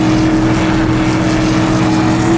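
A Camaro stock car engine in the racing game Assetto Corsa, held in fourth gear near the top of the rev range, drones loud and steady at high RPM with no talk over it.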